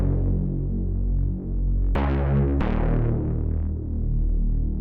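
Thick, throbbing Reese bass from the Vital synth with its filter drive turned up, a low detuned drone with gritty overtones, sustained steadily and alone with one brighter stab in the middle.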